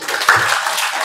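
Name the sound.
audience applause at a meeting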